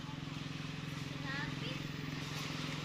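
A motorcycle engine idles with a steady low drone close by, a road ride in a rural provincial hometown, while faint voices murmur underneath.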